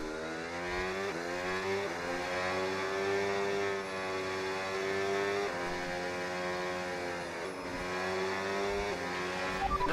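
An F1 race car in the F1 26 game screams through the Madring circuit, its high-revving engine rising and falling in pitch through gear changes and corners, loud and continuous with no voices.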